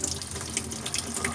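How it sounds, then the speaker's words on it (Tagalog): Water gushes strongly and steadily from the tap of a water purifier, a continuous close rushing splash with no talking over it. "Tumayo yung tubig natin, lakas na"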